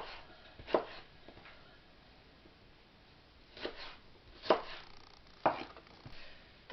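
Four sharp knife chops through tomatoes against a cutting board, spaced irregularly with long pauses between, fairly close with a quiet room background.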